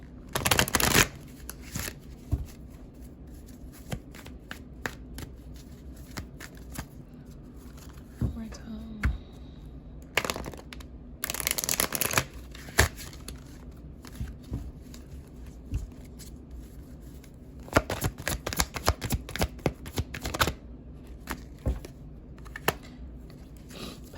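Cards being shuffled close by in repeated riffling bursts with pauses in between, and a voice occasionally speaking underneath.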